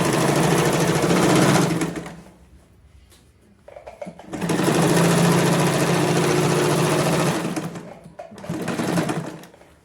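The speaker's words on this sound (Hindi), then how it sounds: "हमने लाइनिंग वाले कपड़े के ऊपर स्टिच लगानी है।" A sewing machine runs close by, stitching a hidden pocket lining into palazzo trousers in two long steady bursts and a shorter third run, with a brief quiet pause between them.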